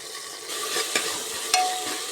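Chopped coriander and mint leaves frying in a pan for mushroom matar pulao, a steady soft sizzle with a couple of sharp scrapes from a spoon stirring, close and alone without talk.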